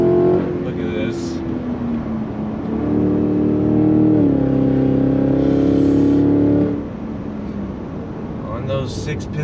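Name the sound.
2023 Cadillac Escalade-V engine accelerating on throttle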